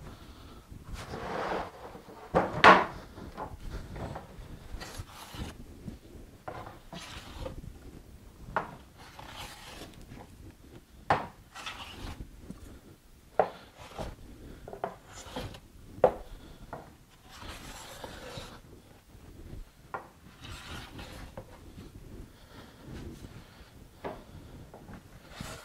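A hand plane is pushed over wood in repeated strokes, each a short dry rasping swish with pauses between, fairly close and moderately quiet, with no talking.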